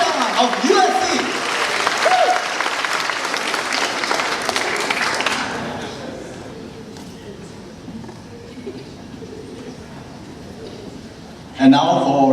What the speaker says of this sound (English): Ladies and gentlemen, let's give a round of applause, Mr. Haminoto of USC.